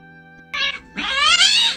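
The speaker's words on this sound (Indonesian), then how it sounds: "kucing galak saat disuntik tapi endingnya makan ceki-ceki." Fierce cat meowing while getting an injection: a short cry, then a longer, louder, strained yowl, close and harsh over a faint steady background tone.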